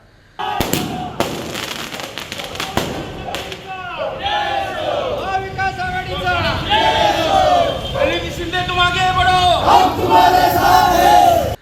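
A crowd celebrates an election victory outdoors in heavy rain in the Balives area, with loud cheering, chanting and shouting voices throughout. Sharp firecracker-like bangs come early, followed by sustained, rising crowd noise.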